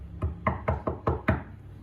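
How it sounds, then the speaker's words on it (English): Six firm knocks on a door, evenly spaced and fairly close, each a sharp hollow thud ringing briefly in a quiet room. "there was a loud knocking at the door"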